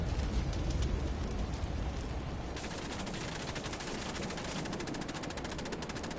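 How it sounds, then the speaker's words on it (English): Machine gun fire in Assassin's Creed Chronicles: Russia, a continuous rattling stream of automatic bursts that grows denser and more rapid midway, loud and unbroken throughout. "Well, I might try running through the machine gun fire."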